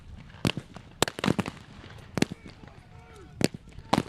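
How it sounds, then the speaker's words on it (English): Sharp gunshots crack out irregularly at a battle reenactment, some in quick pairs, loud and close, with faint shouting and voices in the background between the shots. "the rather large amount of gunfire we've got going on here"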